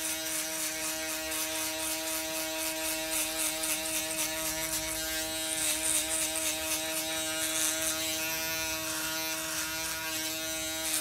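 An electric hair clipper buzzes steadily at close range while trimming the neckline during a men's layered haircut, a continuous whirring hum with slight shifts as it moves over the hair, no talking.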